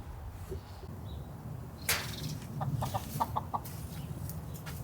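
Pet hens cluck softly nearby in a quiet setting, giving a few short, low clucks against a faint, steady background.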